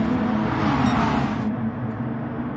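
Car engines from a racing video game on an oval speedway, a steady droning hum of several motors held at high revs, continuous and fairly loud with no talk over it.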